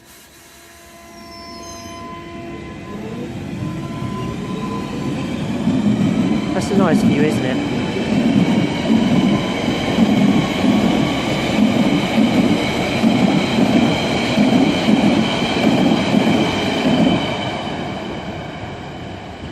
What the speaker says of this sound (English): Let's film a train coming in.